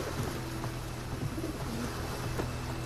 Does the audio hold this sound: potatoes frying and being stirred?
no